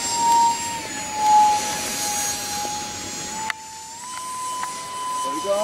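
An RC glider's electric ducted fan runs at full throttle, a steady high whine with a slight pitch shift partway through. Wind and faint background voices are underneath.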